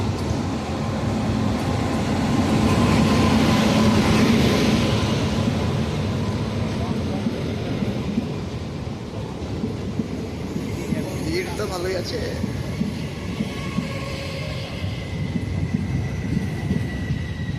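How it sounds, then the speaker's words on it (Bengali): Bhagirathi Express passenger train hauled by an O19 locomotive, its low rolling rumble and rail clatter steady and fairly close for the whole stretch, with people talking over it at times. "O19 লোকোমোটিভ নিয়ে চলে আসছে ভাগীরথী এক্সপ্রেস"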